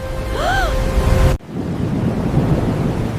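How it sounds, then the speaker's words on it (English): A huge flood wave rushes downstream with a broad, roaring wash of water. It follows an abrupt break from a brief whooshing tone and carries on steadily to the end. "A huge wave is coming!"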